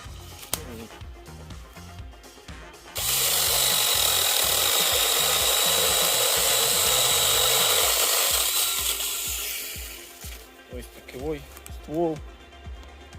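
A mini cordless battery chainsaw cuts through a garden branch while pruning an orchard, a loud steady buzzing whine that starts abruptly, holds for about six seconds, then fades as the cut finishes, with a few softer sounds and low voices around it.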